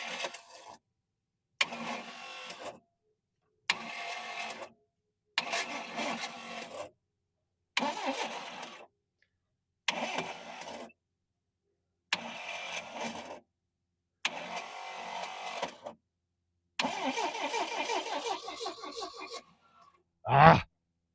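A 1978 Triumph TR7 engine cranks over in about eight separate attempts, each a few seconds of rhythmic starter churning followed by silence, without catching, heard nearby and otherwise quiet.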